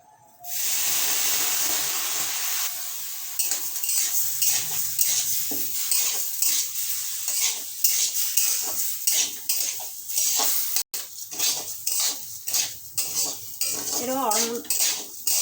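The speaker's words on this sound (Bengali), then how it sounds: "এরকম অনবরত নাড়তে হবে।" Rapid, repeated scraping of a spatula through parboiled rice with a little salt and water in a metal pan over a soft sizzle, the strokes coming in a steady, continuous rhythm.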